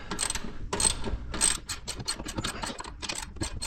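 Ratchet tightening 17 mm bolts on a Honda 520 Rubicon ATV lift bracket, a close, loud run of rapid clicking bursts with short pauses between strokes and no talking.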